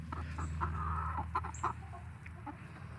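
Backyard chickens clucking at feeding time, a low steady murmur of soft clucks with a few brief higher calls, close and fairly quiet.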